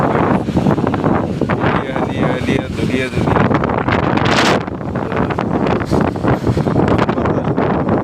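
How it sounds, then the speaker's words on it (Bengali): Strong wind with rain roars and buffets the microphone steadily on an elevated expressway in Dhaka, Bangladesh, while someone talks loudly over it. "এইখান দিয়ে বাতাস প্রচুর"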